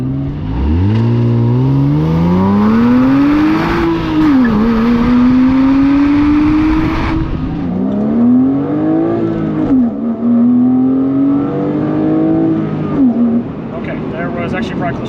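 A 2005 Porsche Boxster S with its 3.2 engine accelerating hard through several gears, the loud close engine note climbing in pitch and dropping at each shift, heard from inside the car with speech over it.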